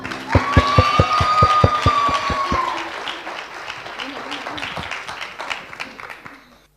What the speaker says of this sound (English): I want everyone to clap, cheer, and make some noise like never before.